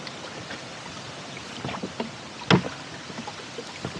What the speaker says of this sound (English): I'm actually rowing against a bit of a headwind.